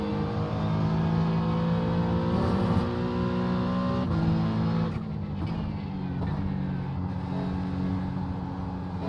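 GTP prototype race car in an iRacing sim-race at Watkins Glen, its engine drone rising steadily as it approaches and holding loud and close throughout, with shifting engine tones and no talk.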